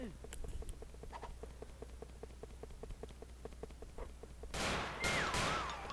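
Gunshots in the online video game Graal Online: a rapid, steady string of small popping shots, followed by a louder burst of noise and a thin whistling tone at the end.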